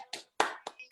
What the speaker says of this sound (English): So once again, another round of applause for Curt